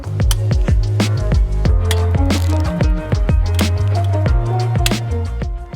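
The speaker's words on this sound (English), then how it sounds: "We're going to remove the lugs with the 19 socket." A 19 mm socket wrench ratchets on the lug nuts of a Toyota Tacoma wheel, giving loud, close, rapid clicking in repeated bursts, with no talking.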